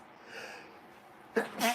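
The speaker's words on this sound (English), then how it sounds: "I'm going to sneeze." A quick sharp sneeze bursts out after a soft intake of breath, close and fairly loud against quiet surroundings.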